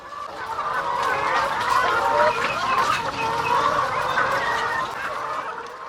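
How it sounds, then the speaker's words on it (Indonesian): Thousands of laying hens cluck continuously inside a large poultry coop, a dense, loud chorus of overlapping bird calls with no talk over it. "Di kandang ini ribuan ayam petelur dipelihara"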